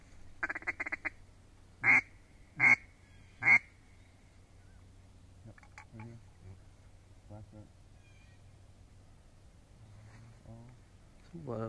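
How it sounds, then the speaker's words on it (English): Ducks quack on the water during an early-season duck hunt in Rhode Island: a few loud, close, evenly spaced calls, then fainter scattered quacks further off with quiet hunters' voices in between. "we got a duck right in front of us"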